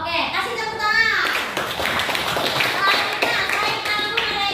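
Quick scattered clapping from a small classroom counseling group, close and fairly busy, with voices talking over it.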